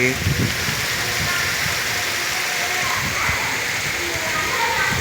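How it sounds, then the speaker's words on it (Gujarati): Heavy monsoon rain pouring over farm fields in Banaskantha, a loud, dense, unbroken wash of rushing water that runs throughout, with someone talking over it. "વરસાદ જોરદાર વરસી રહ્યો છે"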